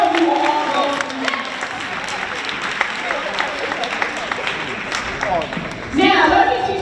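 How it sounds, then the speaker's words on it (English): A crowd at a young women's empowerment summit claps and cheers steadily throughout, with voices mixed in, swelling louder near the end. "So give yourself a round of applause"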